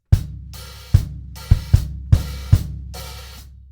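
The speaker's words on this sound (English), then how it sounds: "then we add in those open hi-hats on all the upbeats" A drum kit plays a steady groove: punchy bass drum hits with open hi-hats ringing out on the upbeats, clear and close.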